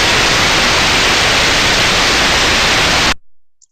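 An ultrasound recording of a healthy machine bearing: loud, smooth, uniform white-noise hiss that holds steady for about three seconds and then cuts off abruptly into silence.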